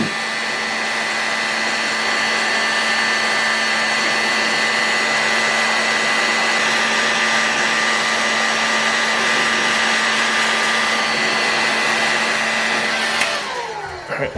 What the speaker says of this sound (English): my heat gun. So let's heat this thing up and see if we can just get the crankshaft out first